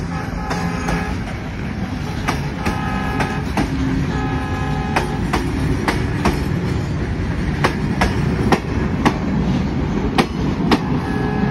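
A freight train rolling through the Darshana-Gede border crossing, heavy wagons rumbling past with steady, rhythmic clickety-clack wheel beats and faint metallic squeals over a continuous low roar.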